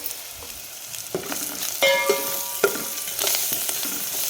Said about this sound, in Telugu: కరివేపాకు కూడా బాగా ఫ్రై అయిన తర్వాత మనం బాగా అన్నీ కలిసేలా కలుపుకున్న తర్వాత